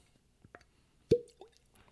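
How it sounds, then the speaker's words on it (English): A cork pulled from a whiskey bottle gives one sharp, close pop, followed by a short liquid squish and a few faint clinks in an otherwise quiet room. "Cork pop."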